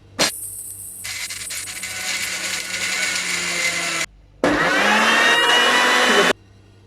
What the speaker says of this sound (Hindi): और अब देखते हैं इसको ग्राइंड करके।